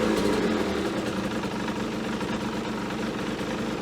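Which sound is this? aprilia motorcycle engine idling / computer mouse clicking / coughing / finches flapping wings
aprilia motorcycle engine idling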